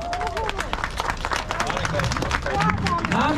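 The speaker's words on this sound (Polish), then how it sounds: "również wielkie brawa!" A crowd applauds the podium finishers at a rally awards ceremony, sustained clapping with an announcer's voice over a PA and crowd chatter woven through.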